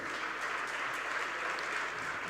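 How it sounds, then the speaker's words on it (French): An audience applauds at a business event honouring a hotel group CEO: dense, steady clapping from many hands that holds evenly for the whole stretch, with no voices over it. "Ça s'applaudit également."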